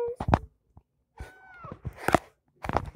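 A young adult house cat gives a short, rising meow amid a few scattered nearby noises, with a quiet voice also heard close by.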